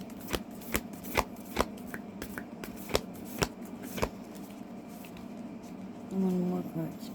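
Tarot cards are shuffled and drawn during a card reading, giving a run of sharp, separate flicks and snaps at an irregular pace, close and fairly quiet, with a soft voice murmuring near the end.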